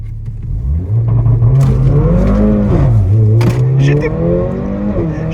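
A Mercedes A45 AMG engine revs hard and climbs in pitch, falls back and rises again, loud and close, with crackles and pops from the exhaust.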